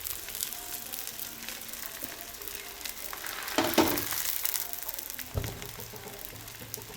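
A chapati-based pizza sizzles in a frying pan, steady crackling with a sharp burst of hissing spatter as it lands, then settling back to a light continuous fry.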